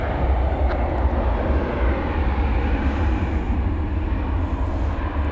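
An Airbus A321 takes off at night from runway 18 left at Dallas Fort Worth airport, its engines a steady broad roar heard from a distance with no talking.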